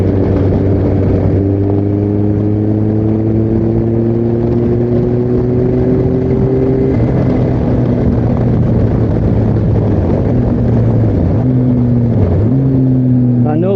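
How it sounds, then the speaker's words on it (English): A Kawasaki Concours 14 motorcycle with a slipping clutch and 19,000 miles holds a loud, steady engine drone with harmonic pitches rising gradually, then sagging and dipping briefly near the end as revs flare and fall. "Clutch is slipping big time."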